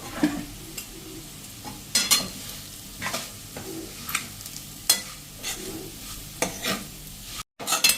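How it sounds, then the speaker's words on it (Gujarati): Crushed bajra rotla is stirred into a pan over a slow flame for a Kathiawadi vaghareli rotlo, giving a low sizzle with repeated scraping strokes of a spoon against the pan. "આપણે જે બાજરાના રોટલાનો ભૂકો કર્યો છે દરદરો એ નાખી દેશું અને એને આપણે મિક્સ કરી લેશું"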